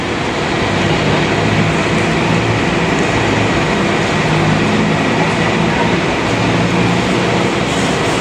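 An LRT1 light rail train runs over a bridge in Manila, a loud continuous rumble with rhythmic rolling and wheel clatter that holds steady throughout, no clear speech.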